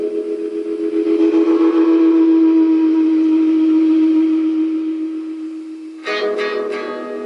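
A Univox EC80 echo unit pushed into self-oscillation gives a loud, steady howling tone that swells and holds for several seconds, then fades before a short burst of repeating echoes.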